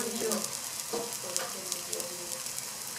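A beef and cassava payagua patty fries in hot fat with a steady, close hiss and crackle, dotted with small pops and light scraping sounds.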